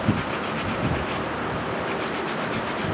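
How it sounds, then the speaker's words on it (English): Fine 400 grit sandpaper rubs back and forth over a carved wooden knife handle, a continuous soft, rhythmic scratching heard up close with no talking. "you take like real light sandpaper, like 400 grit or something like that"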